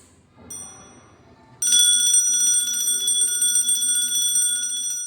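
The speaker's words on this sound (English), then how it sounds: "An electrical bell works on the principle of the electromagnetism." An electromagnetic electric bell at a school science fair rings loudly and continuously after a brief quiet stretch with faint clicks, its bright metallic tone sustained to the end.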